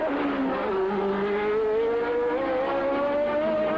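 Formula 1 race cars at the 1983 Detroit Grand Prix street circuit on Congress Street give a loud, continuous engine whine that climbs steadily in pitch as they accelerate past, with no voices.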